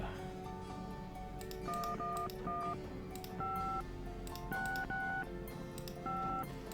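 A series of telephone keypad tones dialing a number in the Gabriel Knight video game, about a dozen crisp, evenly paced dual-tone beeps with short gaps, clear and close, with no talking.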